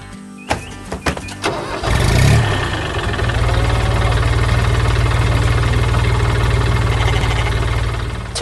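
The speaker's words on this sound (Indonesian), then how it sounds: "Truk biru sedang berjalan, melintasi ladang hijau yang luas dengan suara mesin yang riang" Animated blue truck engine driving across a wide green farm field: a few clunks and a starting rumble, then a steady loud idling drone that continues to the end.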